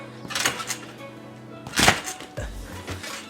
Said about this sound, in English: You actually use your feet hitting the trampoline as a launch to flip you backwards.